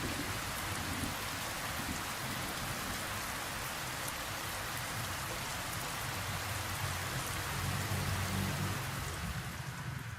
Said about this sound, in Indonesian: Karena cuacanya hujan ya guys, jadi agak creepy gitu